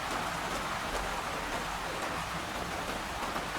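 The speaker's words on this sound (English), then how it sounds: "The rain continues its work outside, hammering faintly against distant windows he will never look through tonight" Steady rain drumming on the windows of a steam train, the Flying Scotsman, at night: dense, even hiss throughout with no voices.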